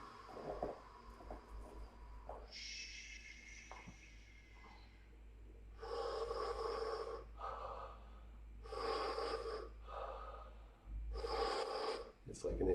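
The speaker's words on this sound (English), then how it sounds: "It's like an intense inhale and a serene exhale." Deep breaths repeat in a morning breathing exercise, with sharp, forceful inhales through the nose and long rushing breaths in an even rhythm, close to the mic over a low hum.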